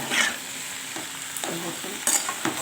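Mixed vegetables with lentil bori and spices frying in a pan are stirred with a utensil, giving scraping strokes and light knocks over a continuous sizzle.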